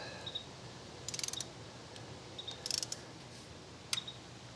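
Ratchet wrench clicking as bolts are torqued down on a classic Jaguar engine, heard as three short, fairly quiet bursts of rapid clicks separated by pauses, with no talking.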